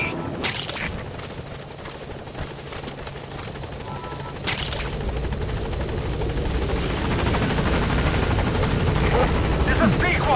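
Pequod, the transport helicopter in Metal Gear Solid 5, drones steadily as it arrives at a landing zone, its rotor roar swelling slightly louder toward the end, with a voice speaking over it.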